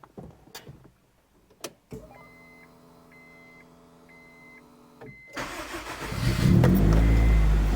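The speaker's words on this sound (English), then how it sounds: "Now, if we did everything correctly, this will start." A turbocharged Honda CR-V RD1 converted to coil-on-plug ignition cranks with a steady whirring starter for a few seconds, then catches and fires up into a loud, rough idle that builds and rumbles up close.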